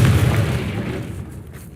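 A Confringo fire spell detonates in Hogwarts Legacy, a single loud booming explosion that hits at once and rolls off into a fading rumble, heard alone.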